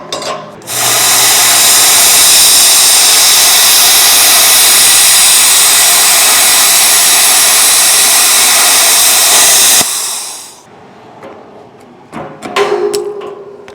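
A Vevor CUT-50P pilot arc plasma cutter slices through thick metal at 35 amps, a loud steady hissing roar lasting about nine seconds before cutting off, followed by faint clicks and handling noise.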